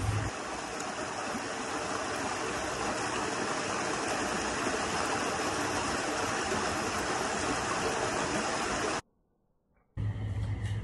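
Water flows over rocks in a mountain stream at a campsite in Tanay, Rizal, a steady, loud rushing wash that cuts off near the end, then resumes briefly.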